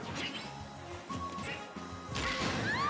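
Smash attack hits crash and whack repeatedly in a Super Smash Bros. Ultimate tournament match between Yoshi and Banjo, loud and layered over busy game effects and crowd noise, with a rising sweep near the end.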